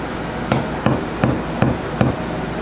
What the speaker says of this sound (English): Dead blow hammer is really, really good for doing this type of work